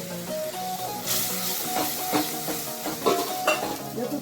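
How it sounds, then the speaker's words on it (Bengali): A spice masala mixed with strained sour yogurt sautéing in oil, a continuous close sizzle with scraping stirs and small spitting pops throughout. "এবার মশলাটা ততক্ষণ পর্যন্ত কষাবো যতক্ষণ না মশলা থেকে তেল ছেড়ে দিই"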